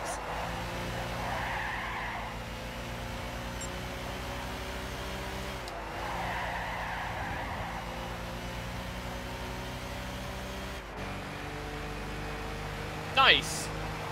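Gran Turismo 6 race car at the Goodwood Festival of Speed, with a steady, droning engine that shifts pitch as it slows under braking, then a short, sharp tire squeal near the end.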